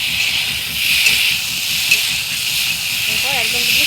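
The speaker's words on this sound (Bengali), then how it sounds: "তো এবার আমি দিয়ে দেবো ঝোলের জন্য জল" Water poured into a hot pan for curry gravy sets off a loud, sustained steam hiss, with a voice speaking briefly near the end.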